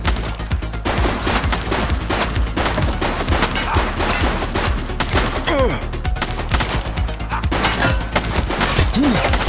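Sustained rapid gunfire from a man shooting in The Precinct video game, loud overlapping bursts and cracks with occasional crashes and thuds, faint voices underneath.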